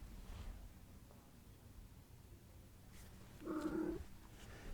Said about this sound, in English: you could just hear the cat's mouth sounds